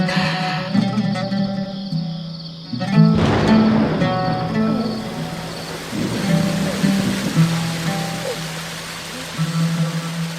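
Steady rain hisses and patters continuously, with a low hum and occasional louder splashes running throughout.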